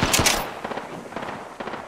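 Rapid automatic gunfire in the Apex Legends video game, a couple of loud close bursts of shots followed by quicker, fainter rattling volleys over about two seconds, with no voices.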